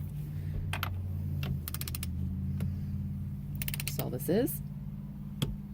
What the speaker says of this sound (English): Now I've got my torque wrench set to 25 foot-pounds.